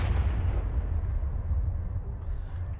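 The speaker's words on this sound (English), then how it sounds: "Was that an explosion?" An explosion in the video game Arknights comes as a loud, deep, rumbling blast that rolls on steadily for nearly three seconds before easing slightly, with no talk.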